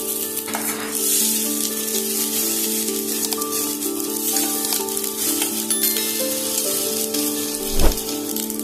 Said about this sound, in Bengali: চালটা মিনিট 3-4 ভালোভাবে ভেজে নেব।